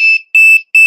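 Warning beep from a drone's remote controller after power-on with a broken part, sounding as three loud, shrill electronic beeps in quick succession with brief gaps, close and alone.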